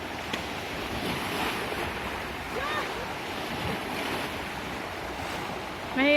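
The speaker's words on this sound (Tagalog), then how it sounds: "Lakas na ng alon." Strong ocean waves and gusting wind at Wu Kai Sha Beach make a steady, loud roar of surf with wind buffeting the microphone throughout.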